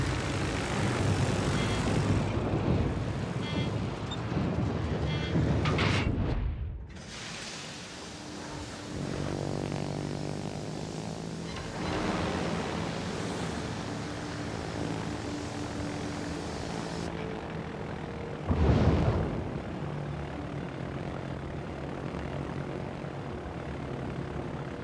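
A carrier fighter aircraft takes off in a naval battle video game, its engine roaring loudly and steadily, dipping briefly before a droning rise and a sharp whoosh near the end.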